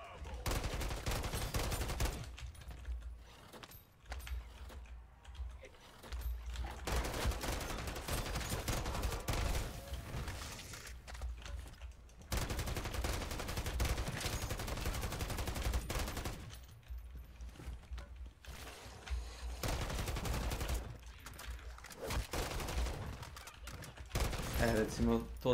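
Video game gunfire in repeated bursts of sustained rapid shooting, fairly loud, broken by short quiet gaps over a long stretch, with no talk over it.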